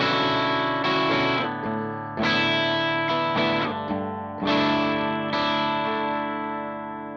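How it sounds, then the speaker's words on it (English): Clean guitar chords with a Jackson Audio Golden Boy overdrive pedal engaged, several strummed chords ringing and overlapping in a steady sequence, close and full with mild grit. "Adding the Golden Boy."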